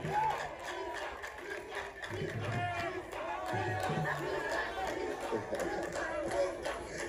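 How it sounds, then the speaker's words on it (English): An outdoor crowd in a village in Ghana's Eastern Region cheers, shouts and claps at a groundbreaking event, a busy sustained roar of voices with whoops rising and falling throughout. "Ghana, give yourselves a round of applause."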